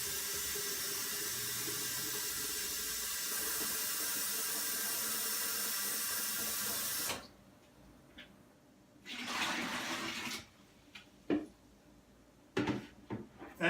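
Water runs from a tap into a container of barley for a fodder system, a loud continuous gush for about seven seconds, then stops, followed by scattered knocks and rustling handling noises.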